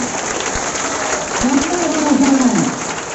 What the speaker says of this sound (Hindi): जोरदार ताली देते रहनी चाहिए